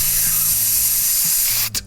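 A spray can hisses in one steady, loud, close blast of aerosol, with faint low tones underneath, then cuts off in a short final puff.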